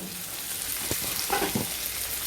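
Carrot and capsicum frying in a pan for a mixed vegetable curry, with a continuous close sizzle broken by a few clinks and scrapes as the vegetables are stirred.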